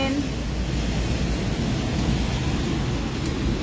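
Heavy rain pours steadily in windy weather in Taiwan, a dense continuous hiss with deep rumbling thunder beneath, loud and unbroken throughout.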